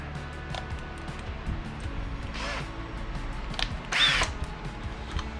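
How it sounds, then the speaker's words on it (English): A power drill backs out screws on a front bumper frame, whirring in short bursts with clicks and tool handling between them, close and clear. "I'm going to use my drill here just to make things a little bit easier"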